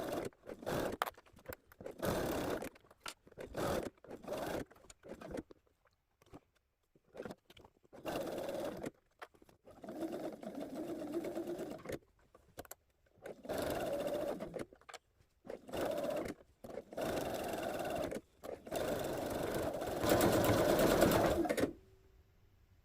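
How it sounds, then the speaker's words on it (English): A sewing machine stitches a fabric bunny leg in repeated short bursts of rapid mechanical chatter, separated by brief pauses, close and clear. "Place the sole of the foot down on your sewing machine so that you can see the leg part while you're sewing."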